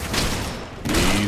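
Graves' shotgun from League of Legends fires twice in quick succession, two loud, close, booming blasts with a brief gap between them.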